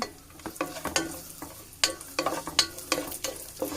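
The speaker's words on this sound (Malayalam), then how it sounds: "അണ്ടിപ്പരിപ്പ് ഒന്ന് റോസ്റ്റായി വരുന്നുണ്ട് ഇനി നമുക്ക് ഇതിലേക്ക് മുന്തിരി ഇട്ട് കൊടുക്കാം" Cashew nuts and raisins sizzling and frying in a pan, with repeated scraping stirs and crackles at an uneven rhythm, close and moderately loud.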